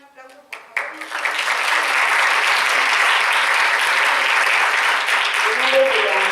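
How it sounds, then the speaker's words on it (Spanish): Sustained audience applause after a presentation at a Mexican sleep-medicine society event, starting with a few scattered claps and swelling into steady, loud clapping from a full room. "Un aplauso, por favor."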